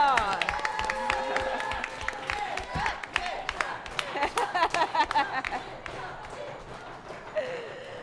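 Studio audience on a French game show claps and cheers amid scattered sharp claps and crowd noise, with voices talking over it and a burst of louder clapping midway.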